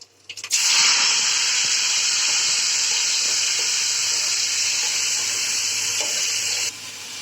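Tomatoes for a chutney dropped into hot oil, setting off a sudden loud, bright hiss that holds steady and close for several seconds before easing slightly near the end.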